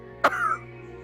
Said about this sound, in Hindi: खांसी शुरू होती है तो रुकने का नाम नहीं लेती